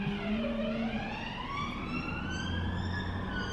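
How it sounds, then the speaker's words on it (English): An ambulance siren wails continuously, its pitch sweeping up and down, fairly clear over low traffic rumble. "Sounds like an ambulance of some sort."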